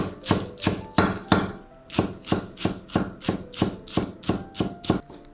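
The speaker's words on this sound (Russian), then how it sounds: "точно так же меленько нарезаем пучок зеленого лука" A knife finely chopping a bunch of thin chives on a board, about fifteen crisp, evenly spaced cuts in a quick steady rhythm, close and clear with no talking.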